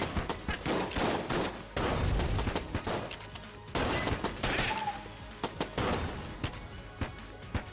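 Rapid gunfire from the video game Enter the Gungeon crackles in dense bursts, shots stacking into fusillades with sharp impacts and crashes, loud and continuous over game music.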